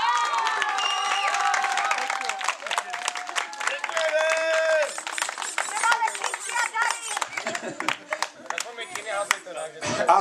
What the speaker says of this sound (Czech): Publikum, bouřlivý potlesk!